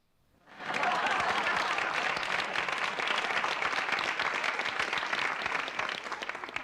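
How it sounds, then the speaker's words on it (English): A crowd breaks into loud, sustained applause, dense overlapping clapping that swells in quickly after a short silence and continues steadily to the end. "Why did you all clap?"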